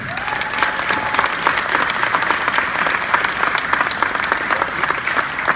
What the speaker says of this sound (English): just give them a round of applause and appreciate them for that